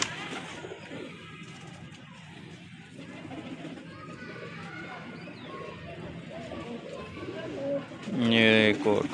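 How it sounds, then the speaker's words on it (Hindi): Pigeons coo softly in a sunny outdoor spot, with low repeated calls under a busy background of chatter and children's voices, ending with a louder nearby burst of noise. "ये एक और कबूतर भाई इस तरह आते रहते हैं"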